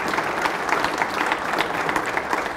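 A crowd claps steadily, a dense patter of many hands applauding throughout.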